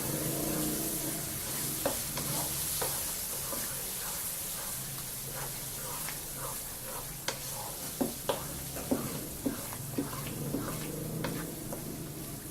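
A spoon scrapes and clacks against a pan in repeated strokes, stirring boiled spinach and chana dal over a soft, steady sizzle, with a few louder knocks toward the end.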